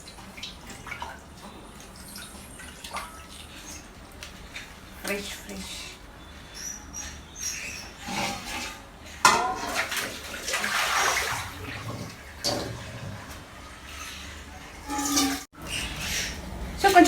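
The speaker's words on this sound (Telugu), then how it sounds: "సో ఇది ఇంట్లోనే కాబట్టి నేను నార్మల్ వాటర్తో వాష్ చేస్తున్నా." Tap water splashes and runs over leafy greens (chukka kura, sorrel leaves) being washed by hand at home, a continuous wet rinsing sound under a speaking voice.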